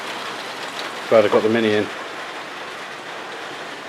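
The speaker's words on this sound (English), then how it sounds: "It's raining." Rain falls steadily outside a garage where a classic Mini is being restored, a soft constant patter throughout, with someone speaking briefly near the middle.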